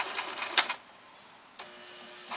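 A sewing machine back stitching a two-tone infinity scarf, a short buzzy run, a pause, then another brief burst of stitching, close and fairly quiet.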